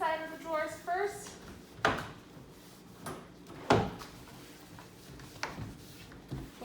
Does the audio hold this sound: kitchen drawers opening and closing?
yes